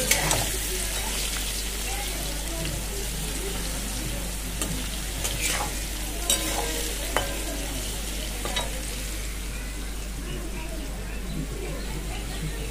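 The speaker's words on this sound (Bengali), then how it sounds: "আলুটা আগে ভেজে নিলাম, তারপরে অন্যগুলো আরও ভেজে নেব সবজিগুলো।" Potatoes frying in oil in a pan in a home kitchen, a steady close sizzle with occasional sharp clinks of stirring, and a voice talking over it.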